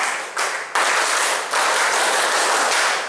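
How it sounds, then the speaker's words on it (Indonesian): A group at a Scout training course in Masalembu claps together in the Scout style, several loud, close bursts of many hands that start in quick succession and then settle into sustained clapping. "Ketika saya di Jawa Timur harus dengan tepuk pramuka."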